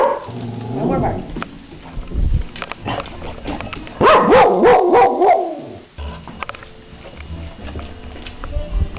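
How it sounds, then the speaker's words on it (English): Dogs bark in loud, close bursts, with a rapid run of yips and barks in the middle, whimpering and a person's voice between the barks. "No more barking."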